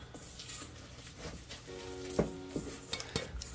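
Sourdough starter being stirred with added flour and water in a jar, a quiet scraping and clinking of the utensil against the container with a few sharper knocks, close and fairly faint.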